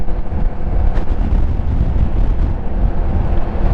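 Heavy wind roaring over the microphone while riding a Kymco AK 550 maxi-scooter motorcycle: a loud, continuous, buffeting rush mixed with engine and road rumble, steady throughout with no talking.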